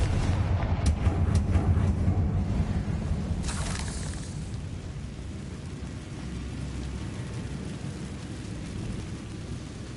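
A Confringo explosive spell in Hogwarts Legacy bursts near the start with a sharp crack and rumbling blast, then fades into a low, steady background rumble.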